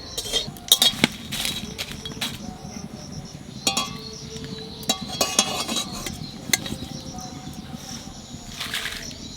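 Dry red chilies are fried and stirred in oil in a pan, with sharp metallic scrapes and clinks of the spoon against the pan over a low, steady sizzle, close up.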